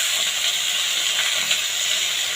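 Carrots hit a hot pan with garlic and onion for a mushroom soup, giving a loud, steady, close sizzling hiss that holds evenly throughout with no talking.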